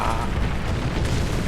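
A T-34 tank cannon fires in a War Thunder battle, a dense low boom that fills the moment and rumbles on without letting up.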